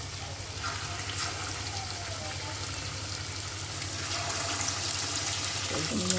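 Chicken kababs sizzle in medium-hot oil in a Bangladeshi home kitchen, a steady close hiss and crackle running throughout with a low hum beneath and a brief clatter near the end.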